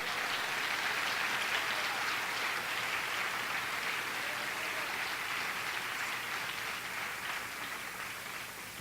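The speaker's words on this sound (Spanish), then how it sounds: "Aplaude al Rey." A church congregation applauds during a sermon, a dense, continuous clapping wash heard from a distance at low level, with no talking over it.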